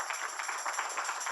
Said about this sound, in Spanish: Denle un aplauso fuerte al Señor por eso